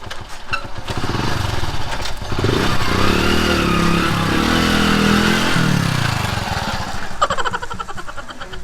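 A motorcycle engine revs loudly and steadily up close, with a rising and falling roar through most of the stretch before easing off near the end.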